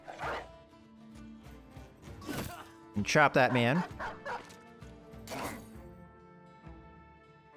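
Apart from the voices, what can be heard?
war dog barking in Battle Brothers video game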